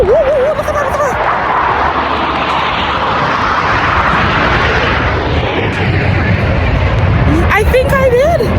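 Jet aircraft roaring loudly overhead outdoors near Harrison Lake, British Columbia, a sustained heavy rumble that fills the whole stretch, with a voice heard briefly at the start and end.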